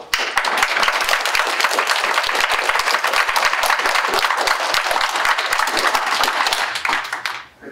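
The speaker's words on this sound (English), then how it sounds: "I'd also ask the group to refrain from applause" Audience applause at a county board of supervisors meeting, a loud, sustained patter of many hands clapping close by, holding steady for several seconds before tapering off at the end.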